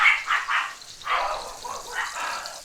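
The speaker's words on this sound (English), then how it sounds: "I clipped this on the ground here, and they started barking." Several dogs bark in a rapid series of yips and woofs, moderately close and fairly loud, with no talking over them.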